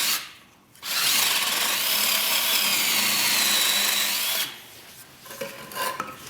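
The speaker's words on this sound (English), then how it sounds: "We've got to bring that up before the drill gets too far in." A power drill bores through wood to make a path for conduit pipe, a steady loud whine grinding on for several seconds before cutting off, followed by scraping and clattering of the tool and debris.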